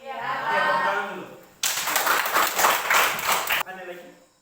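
Classroom applause, with a group of students clapping hands together in a loud, dense burst lasting about two seconds, set between stretches of a teacher speaking before and after.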